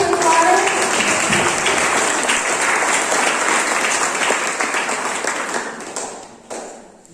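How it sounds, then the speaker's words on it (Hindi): Loud, sustained applause and clapping from a crowd at a national tour event near Jim Corbett National Park, holding strong before tapering off toward the end. "तो एक बार क्राउन सर के लिए जोरदार ताली।"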